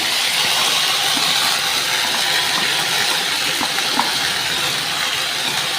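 Ginger hitting hot oil in a pan while cooking mung dal with fish head, giving a loud, continuous sizzling hiss and spatter with scattered pops throughout.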